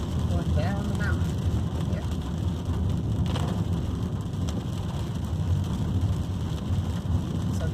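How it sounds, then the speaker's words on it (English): Rain falls steadily on a car driving down a mountain road, a continuous broad hiss over the low rumble of the moving vehicle, with faint sounds in the background. "It started raining at 7"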